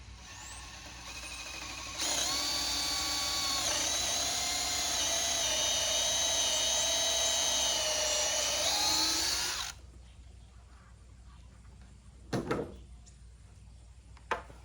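A power drill with a 1/4 inch bit bores a hole through deck lumber for 3/8 bolts, a steady high whine running for about eight seconds before cutting off, followed by a few faint clunks.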